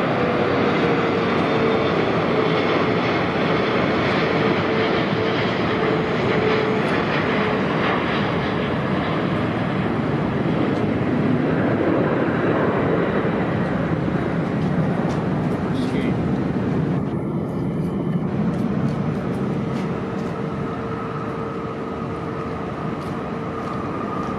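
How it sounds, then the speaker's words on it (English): An EVA Air Boeing 777-300 jet airliner at LAX gives a loud, sustained jet roar that stays broad and steady for a long stretch before easing slightly, with occasional voices over it. "Taipei EVA Airlines 777-300."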